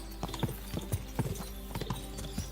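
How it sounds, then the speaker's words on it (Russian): A ghost horse gallops in the video game Kingdom Come: Deliverance 2, its hooves thudding in a quick, steady clip-clop rhythm over a constant low background rumble, close and moderately loud, with no talk over it. "Конь-призрак у меня. Выносливости много. Могу галопом скакать вообще через всю карту."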